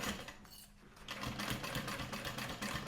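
A sewing machine stitches a seam on a Stephan Sport Duffel bag, running in a quiet, steady whirring burst that pauses briefly and then resumes at close range.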